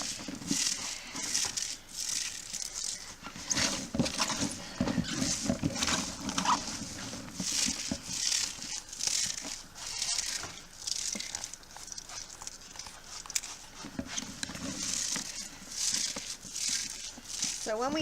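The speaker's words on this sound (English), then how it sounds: "And we're actually smashing it is what we're doing to get the juice out of it." Shredded cabbage is smashed by hand to draw out its juice for old-fashioned Dutch sauerkraut, making a continuous series of wet crunching, crinkling squeezes and thumps while people talk nearby.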